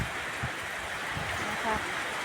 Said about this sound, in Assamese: বৰষুণ।